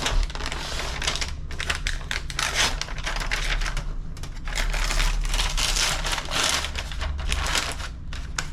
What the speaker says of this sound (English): Let's peel the paper off.